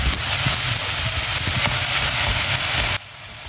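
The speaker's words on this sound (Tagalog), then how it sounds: "igigisa lang natin itong ating marinated beef" Marinated beef sautéing in a pan gives a loud, steady broadband hiss that runs unbroken for about three seconds, then drops abruptly to a quieter sizzle.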